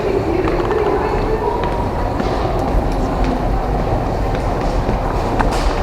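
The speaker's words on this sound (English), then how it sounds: "Before boarding this train." A Tyne & Wear Metro train at a station platform, a loud, steady rumble of wheels and motors with faint rattles and clicks throughout, close and continuous with no pauses.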